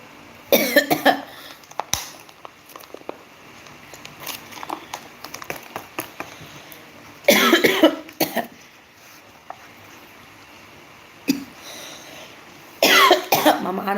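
A woman coughs in short bursts, a few harsh coughs near the start and again midway and at the end, with quieter background noise in between.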